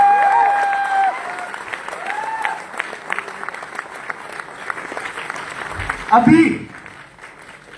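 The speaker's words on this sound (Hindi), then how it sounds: "तालियां बजती रहनी चाहिए" Audience applause at a seminar in ITO, Delhi: steady crowd clapping runs through the whole stretch under a host calling out over a microphone, with a brief louder swell near the end.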